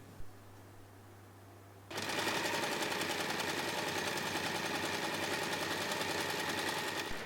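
A sewing machine stitches along the top edge of a phone pouch, starting after a quiet moment and then running as a steady, fast, even whir for several seconds.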